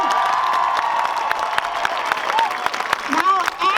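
A crowd at a community rally for immigrants in Little Rock claps and cheers, a dense burst of applause with scattered shouts, close and loud, while a voice carries over it.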